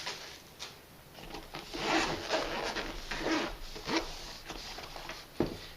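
A zipper rasps open on a camera flash carrying case in several short pulls, with soft rustling and handling noises between strokes, close up and fairly quiet.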